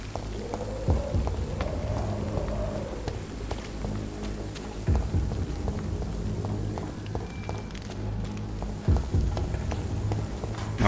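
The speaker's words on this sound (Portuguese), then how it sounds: "Tá chovendo no jogo, tá chovendo aqui." Rain falls both in the game Vampyr and outdoors at home, a steady soft patter with scattered drops and small knocks running throughout at a fairly faint level.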